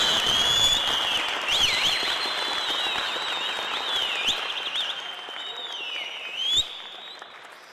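Sustained audience applause fills a village ceremony where local officials are invited to the stage to receive an appointment, steady clapping from a crowd that swells briefly near the end.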